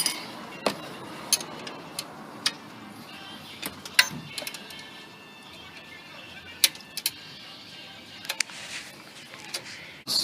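A wrench works a screw loose while removing the alternator from a 2006-2011 Honda Civic, giving scattered sharp metallic clicks and ticks over a quiet background, with a person talking at times.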